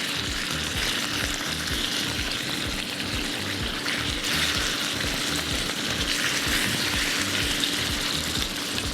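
Chicken thighs frying in a pan give off a steady, close, loud sizzle with crackling spatter running throughout, no voices over it.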